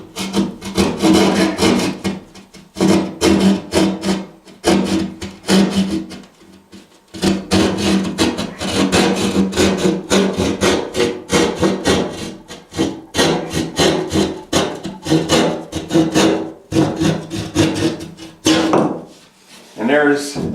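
A handsaw cuts a hole in a drywall ceiling, rapid rasping back-and-forth strokes repeated steadily, close and loud, with a brief pause partway through.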